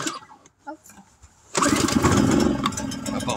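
A Powersmart 1000/1500 inverter generator is pull-started with fuel on and choke out: a few quiet rustles and a pull, then the small engine catches and runs loudly and steadily with a slight rev.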